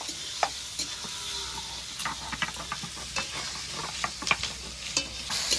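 Onions stirred and fried in a pan, a continuous close sizzle broken by frequent sharp scrapes and taps of the spatula, irregular and busy, with no talk.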